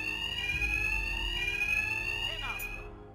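Alarm blares inside the Bank of Gotham in the game Batman Arkham Knight, a steady electronic tone sounding continuously and loudly for the whole stretch alongside low game rumble, fading near the end.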